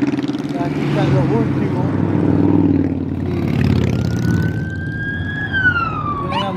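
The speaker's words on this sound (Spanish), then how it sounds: "Y atrás yo creo que viene una ambulancia, si no me equivoco." An ambulance siren wails past during a road ride descending from Guavate near Ponce, Puerto Rico, rising and then falling in pitch toward the end, with someone speaking over steady road and engine noise.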